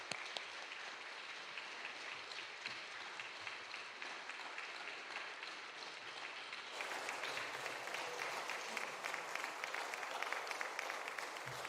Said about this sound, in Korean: 박수를 치겠습니다.